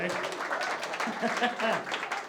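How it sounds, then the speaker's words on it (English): A burst of audience applause at a comedy festival show, many hands clapping together, loud and close, with a voice speaking over it. "Thanks for clapping."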